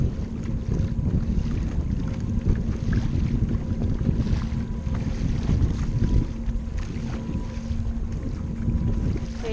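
Heavy wind roars constantly across the microphone while a small boat pushed by a Bixpy jet motor moves over open water, a loud, unbroken low rumble with a faint steady motor hum and no talk.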